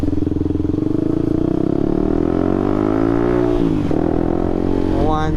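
A motorcycle with a rebuilt clutch, fitted with a BRT pressure plate and DAY clutch housing, revving loudly and steadily, the engine note climbing and then dropping.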